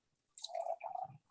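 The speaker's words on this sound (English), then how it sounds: "Here is a glass. It is empty. Let me fill it with water." Water is poured into an empty glass: a soft start, then about a second of close, quiet trickling and splashing with a rising gurgle before it stops.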